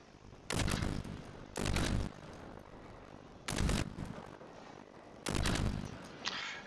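A military-class robot firing its guns in the video game Generation Zero: four loud bursts of rapid automatic fire, each lasting about half a second, separated by pauses, over a quiet background.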